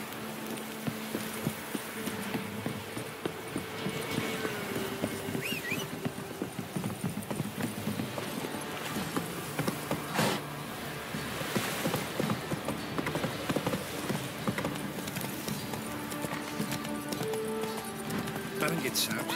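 Horse hooves clip-clop in The Witcher 3 on PC, a steady rhythmic trot running through the scene, mixed with game ambience and an occasional whinny, at moderate loudness.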